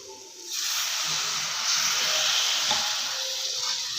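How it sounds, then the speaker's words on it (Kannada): Water is poured into a hot pan of capsicum palya curry, setting off a loud, steady hiss of steam that swells after a quiet start and holds for several seconds, close and alone. "ಇವಾಗ ನೀರು ಹಾಕ್ಕೊಳ್ಳೋಣ."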